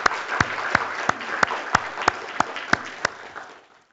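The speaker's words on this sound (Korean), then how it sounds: "하나님께 우리 영광의 박수 한번 합시다" A church congregation claps in unison during a Sunday service, sharp rhythmic beats about three per second over a softer bed of scattered clapping, fading out toward the end.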